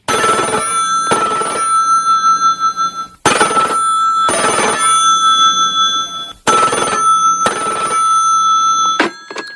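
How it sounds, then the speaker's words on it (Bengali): An old-style telephone bell rings in a Bengali audio drama: three loud, close double-ring bursts with short gaps between them, ending in a brief click as the receiver is picked up. "সকালে এলো ফোনটা"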